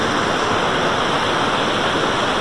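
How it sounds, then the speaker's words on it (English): The Savage River rushes fast and loud in a dense, steady roar of churning water, close by and continuous with no voices. "Right here, the water's fast, and the wading is treacherous, to say the least."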